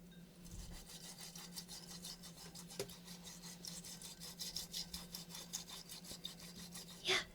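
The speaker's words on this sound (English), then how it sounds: "you want to whisk it in a W pattern" A bamboo whisk beats matcha tea in a bowl with fast, regular, close scratching strokes that carry on without a break, and a small knock comes near the end.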